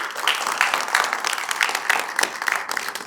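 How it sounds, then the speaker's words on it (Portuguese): Church audience clapping in applause, a dense, continuous patter of many hands for about three seconds, fairly close. "Aplauda o Rui para nós se alegrar, por favor"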